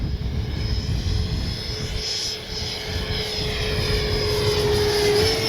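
A remaidened Freewing A-6 Intruder 80mm electric ducted-fan RC jet flies at half throttle on a windy day, a steady whining fan tone holding on under low rumbling wind buffeting.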